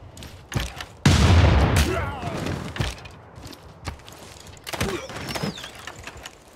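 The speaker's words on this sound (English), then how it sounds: "Field cannon," Field cannon firing in Civilization 6: a sudden loud boom with a rumbling tail, followed by scattered mechanical clanks and smaller impacts.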